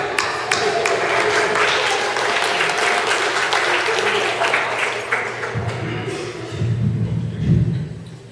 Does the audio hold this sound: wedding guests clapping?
yes